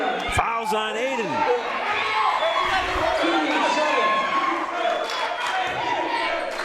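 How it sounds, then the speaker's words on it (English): A crowd grows louder at an LCCC men's basketball game against Columbus State, with a steady roar, scattered shouts and squeaks from the court. A commentator talks over the noise throughout. "Crowd's getting into it."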